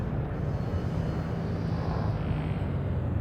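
A spaceship boosting away from a station in Elite: Dangerous gives a steady, loud engine roar with a deep low rumble and airy hiss, holding constant and alone throughout.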